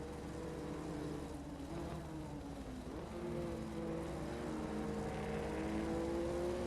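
Touring cars in a racing game at Bathurst braking into turn 1 together, several engine notes droning and shifting pitch as they bunch up, steady and moderately distant, with no voices.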